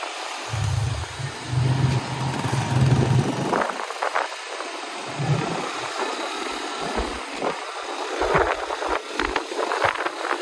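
A motorbike engine rumbles low while riding in Nicaragua, the drone rising and dropping out in uneven stretches beneath steady wind rush.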